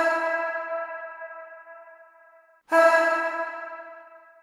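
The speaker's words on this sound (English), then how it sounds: "Then I have the more basic vocal reverb and these delays here." A synthesized or sung vocal tone held on a steady pitch, soaked in reverb with delay repeats, fading slowly before a second bright burst re-enters and decays in the same echoing tail; no talking.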